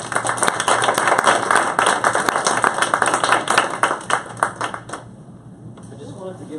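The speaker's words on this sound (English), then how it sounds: "A big round of applause" A conference audience applauds after a social innovation panel discussion, many hands clapping loudly and fast for about five seconds, then breaking off abruptly. Quieter room noise and faint voices follow.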